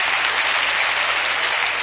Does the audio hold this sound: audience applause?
yes